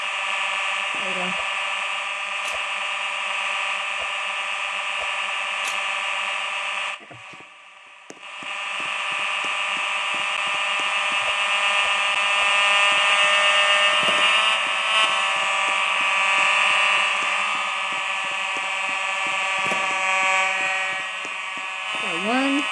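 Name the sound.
Simplex fire alarm sounding during a test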